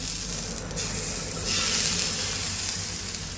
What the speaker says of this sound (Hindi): यहाँ पे आपको दूध लेना है और इसके ऊपर डालते जाना है।